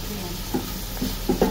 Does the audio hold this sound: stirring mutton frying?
yes